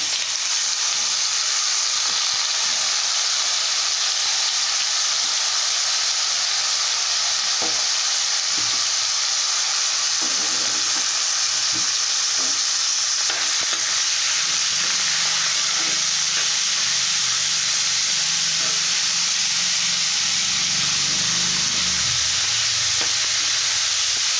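Broad beans dropped into hot tempering oil in a Telugu kitchen, a loud continuous hissing sizzle with faint stirring taps throughout.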